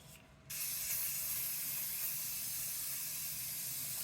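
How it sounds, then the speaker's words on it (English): Cheap hairspray is sprayed onto static-grass bushes for an OO gauge model: after a brief pause, a close, loud, steady aerosol hiss starts and runs unbroken to the end. "And then cheap hairspray."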